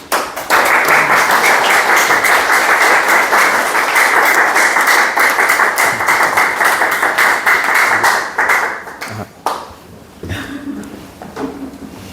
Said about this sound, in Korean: 여러분 뜨거운 박수로 환영해 주시기 바랍니다